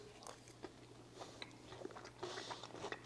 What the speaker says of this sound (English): And crunch on the top, crunchy on the bottom, and tart in the middle.